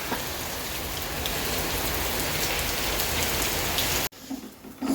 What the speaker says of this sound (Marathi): बघा काहीच किती पाऊस पडायला लागला बघा